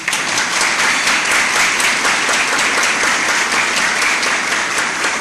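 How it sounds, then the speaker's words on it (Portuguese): Sustained applause from an audience at a business community luncheon meeting, steady dense clapping filling the room throughout with no pauses. "E peço uma salva de palmas a eles."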